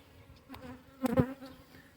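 Soft buzzing of honeybees close by at their hive, swelling briefly in the middle as insects pass near, with a faint hum throughout.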